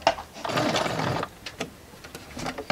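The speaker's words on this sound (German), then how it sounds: "Ich nähe hier ein paar Stiche zurück" A domestic sewing machine runs a short burst of back stitches on a fabric face mask, a whirring mechanical rattle lasting under a second, followed by a few quieter clicks and handling noises nearby.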